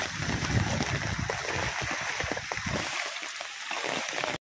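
A rain-swollen river in flood surges past with a continuous close roar of rushing water and occasional splashes, cutting off abruptly at the very end.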